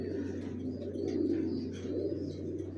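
Racer pigeons, young birds of an original racer line, coo softly and steadily over a constant low hum, with faint chirps scattered through the short stretch and no talking.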